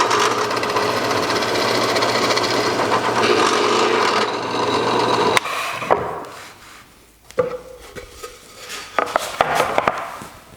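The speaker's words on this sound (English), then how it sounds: "Now we're going to go with the drill press and we're going to drill a hole right there." A loud, steady whirring drone of a drill press boring into wood, then it stops and gives way to scattered clunks and scraping noises.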